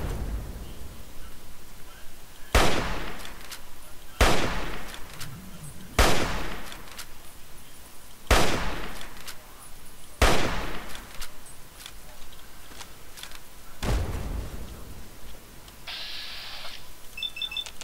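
A super mutant launches missiles in the game Fallout 3: about six loud, sharp blasts each trailing a roaring decay, spaced roughly two seconds apart over a low game rumble.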